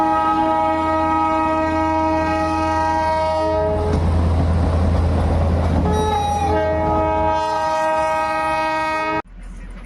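A Darjeeling toy train on the mountain railway passes close by, its long steady horn blaring loudly for most of the clip over the rumble of the wagons, then cutting off abruptly near the end.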